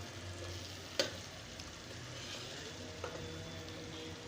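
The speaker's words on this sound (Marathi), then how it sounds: "मसाला आपण छान त्याला अजून तेल सुटेपर्यंत पाच ते दहा मिनिट परतवून घेणार आहोत" Ground black masala for a chicken curry sautés in oil in a pan, giving a faint, even sizzle with a couple of soft stirring knocks, heard quietly and alone.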